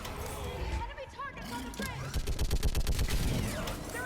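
Rapid bursts of rifle and machine-gun fire in the shooter game Mass Effect 3, heard as repeated loud shots in a quick rhythm under and between excited voices.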